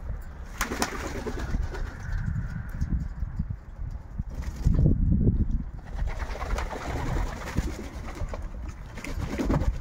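Pigeons coo in soft, low repeated bursts around a breeding loft, with intermittent wing flutters and scuffling, fairly close and with no talking.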